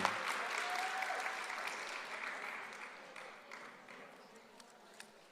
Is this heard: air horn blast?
no